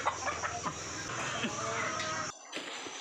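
Free-range village chickens and a rooster clucking near a coop where chicks have hatched, steady cackling and clucks through the first two seconds before dropping off into near-quiet.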